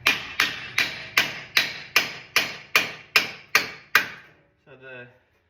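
Ten evenly spaced, sharp metallic hammer blows ring out loud and close while a wheel hub bearing is driven into a Toyota 4Runner 2WD, followed by a brief softer scraping sound.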